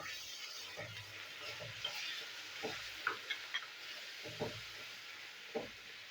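Tomato and green chilli paste cooks down in spiced masala in a pan, giving a soft steady sizzle with faint scraping strokes of a spoon at irregular intervals, fairly quiet and with no talking.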